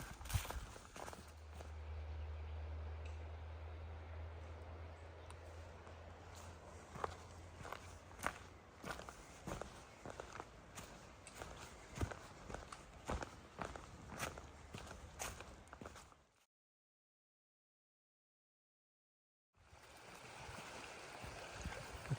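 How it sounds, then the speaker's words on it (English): A hiker's footsteps crunch steadily along a creek on the Appalachian Trail in Virginia, with a faint stream trickling beneath; a brief low hum early on, and the sound drops out entirely for a few seconds before resuming. "Have to walk along this creek here for a while."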